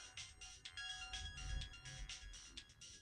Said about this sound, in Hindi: अचानक मोबाइल बज उठा।